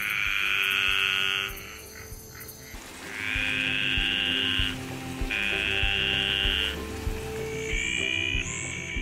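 Desert tree frogs from Australia give three long, harsh, nasal croaking calls that rise and fall, close and loud, separated by short pauses, with a quieter chirp near the end.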